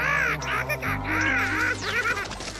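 Jungle crow cawing in a Ninja Hattori cartoon, a run of loud, close, harsh calls in quick succession with cartoon music and effects underneath.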